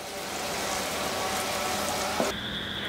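Pointed gourd frying in a little leftover oil in a pan, a steady dense crackling sizzle throughout, with a brief clink near the end and a higher hiss taking over afterward.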